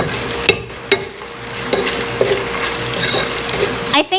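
Garlic sizzles in a pan with onion while a utensil scrapes and knocks against the pan in several sharp strokes, a steady fry hiss underneath, close and clear.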